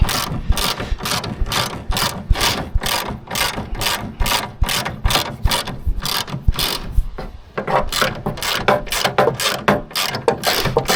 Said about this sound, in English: I didn't have a 13 mil wrench with me to tighten it